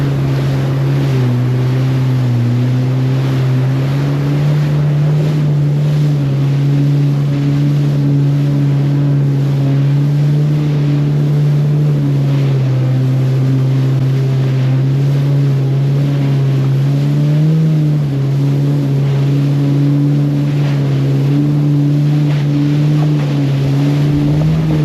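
A jet ski runs steadily across the open Gulf, its engine droning loud and constant with a low, even pitch that wavers slightly, mixed with wind and water rush for the whole stretch.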